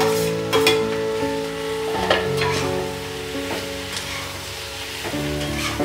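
Cauliflower for crispy chilli gobi fries in a pan, a continuous sizzle with clattering stirs and scrapes, a low steady hum running underneath.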